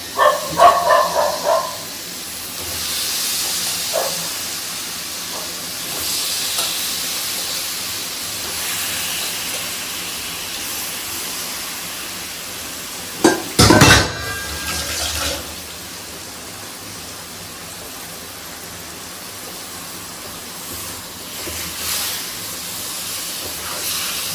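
Cleaned, turmeric-rubbed chicken hits a hot pan in a home kitchen cooking a Tamil chicken kuzhambu, setting off a loud burst of sizzling and steam hiss that settles into a steady, softer frying hiss.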